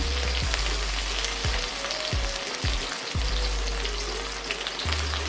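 Onion and tomato sizzle in a pan for a vegetarian snake gourd ghonto, a loud steady frying crackle broken by a few dull knocks.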